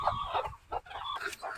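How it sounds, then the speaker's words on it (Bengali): Hungry farm chicken clucking at feeding time, with a series of close, bright clucks and short calls in uneven bursts, briefly pausing midway. "এই যে মুরগিটাকে এখন খাইতে দেবো, অনেক খিদে লাগছে।"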